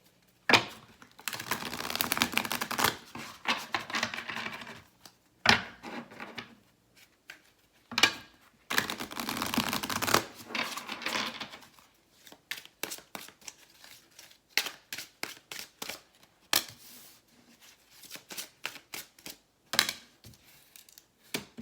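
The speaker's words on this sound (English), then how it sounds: "Let me pull the cards first and then we'll just dive into it." Reading cards for a love reading being pulled and shuffled, with repeated dry papery riffles, slaps and quick clicking bursts separated by short pauses, close and fairly quiet with no talking.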